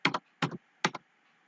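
Three short bursts of keystrokes on a computer keyboard while writing a line of Go code, each flurry crisp and close, separated by brief quiet gaps.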